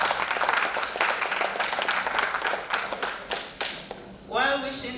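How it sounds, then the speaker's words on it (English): Applause from an audience at a professional women's association conference, dense clapping with a few sharp, close claps that fades out as a voice starts speaking near the end. "Please give her a sound round of applause."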